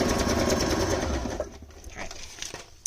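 A sewing machine stitches pockets onto a hardcover journal cover with a rapid, steady whir. It runs loud and close for about a second and a half, then slows and fades into scattered clicks and small handling sounds.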